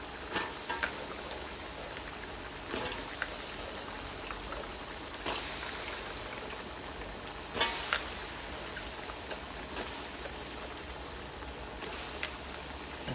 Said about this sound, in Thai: เราจะใส่ผัดเป็นมะเขือจ้ะ